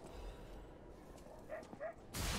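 A dog barks in a video game, giving a couple of short, fairly faint yips over a low game background, followed by a sudden loud burst of noise at the end.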